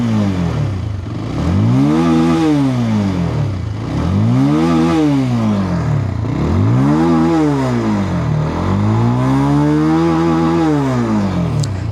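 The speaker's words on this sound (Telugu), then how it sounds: "ఒకసారి ఎగ్జాస్ట్ సౌండ్ వినండి." A 2026 Bajaj Pulsar 220F motorcycle exhaust revving up and down in repeated rising and falling sweeps, loud and close, with a steady engine drone between revs and no talk.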